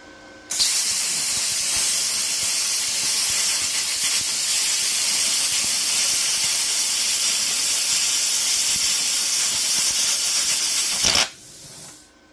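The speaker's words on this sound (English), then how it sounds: "Okay, sheet metal like we're cutting up a van." A Topshak TS-CUT40 40A plasma cutter slices through thin sheet metal on its minimum setting, a steady, loud hissing roar that starts abruptly, holds for about ten seconds and cuts off, with a brief softer hiss trailing after.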